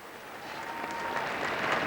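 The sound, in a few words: crowd applauding the Queen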